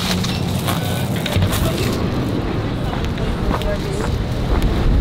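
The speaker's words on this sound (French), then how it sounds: "il y a énormément de vent" Strong wind buffets the microphone in a constant low rumble with gusty bursts, loud and close throughout.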